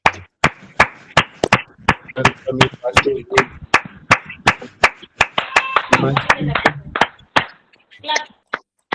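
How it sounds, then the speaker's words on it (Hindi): An online church audience claps loudly in a steady, even rhythm for a pastor's welcome, with brief voices and cheers mixed in partway through. "एक ऊंची ताली के साथ हम प्रभु के जन पास्टर सागरिका का स्वागत करेंगे"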